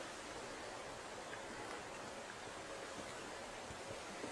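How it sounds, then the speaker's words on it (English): Steady rushing water with a broad, continuous hiss, like a fast-flowing stream heard up close, unchanging throughout. "The water level's high, and it's moving fast"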